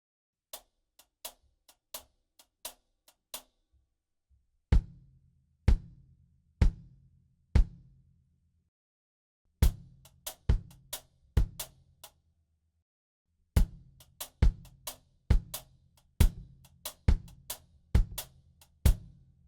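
A drum kit polymeter played with the right hand and right foot: sharp, close strikes in an uneven repeating pattern, with deeper kick-drum thumps joining and recurring in small groups, and no talking.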